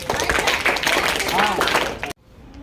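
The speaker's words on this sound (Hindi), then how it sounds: "ताली बजाइए सब लोग" A group of schoolchildren clapping together in a government school program, mixed with voices, before the sound cuts off abruptly near the end into quiet.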